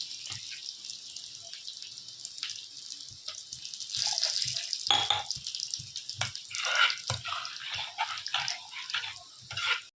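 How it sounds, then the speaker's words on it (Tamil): Garlic and a dried red chili sizzle and crackle in hot oil, a dense, steady frying hiss with small spitting pops and bursts, close and moderately loud with no talking. "கொஞ்சம் பூண்டு போட்டுக்கிறேன் ஒரு காஞ்ச மிளகா போட்டுக்கிறேன் அந்த பூண்டு கொஞ்சம் செவக்கட்டும்"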